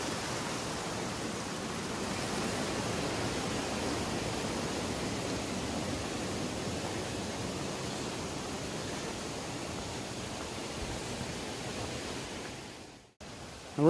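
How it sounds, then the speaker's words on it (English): Steady rushing of Jakes Creek flowing beneath a bridge in the Great Smoky Mountains, a continuous broadband wash that holds evenly throughout before briefly cutting out near the end. "Beautiful river, Jake's Creek, I believe, running down through here."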